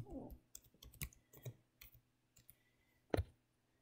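Sharp computer mouse clicks sound while someone works in SPSS statistics software. There are several separate taps at an irregular pace, followed by one louder click near the end. All of it is quiet and close, with no talking.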